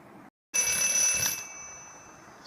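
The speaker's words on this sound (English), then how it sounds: "Once the alarm ring, let's go and see." An alarm clock rings with a bright, steady electronic tone after a brief silent gap, loud at first and then settling into a sustained, slightly softer ring, with no voices.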